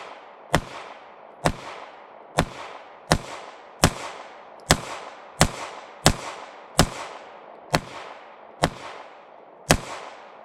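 Rapid gunshots from a Bul Armory SAS II Ultralight Comp 3.25 pistol fired at a target, about a dozen sharp, loud cracks in a fast, steady rhythm, each with a brief ringing tail, and no talk.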